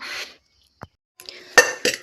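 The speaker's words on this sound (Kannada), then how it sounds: "ಪಾತ್ರೆ ಎಲ್ಲನೂ ಜೋಡಿಸಿಟ್ಬಿಟ್ರೆ" Pots and dishes being set down and arranged in a home kitchen, with a few separate clinks and clunks, a brief knock, then louder clattering near the end, close by and without talk.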